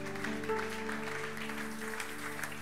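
A church congregation applauds to acclaim the word of the Lord, steady clapping from many hands over a sustained organ or keyboard chord.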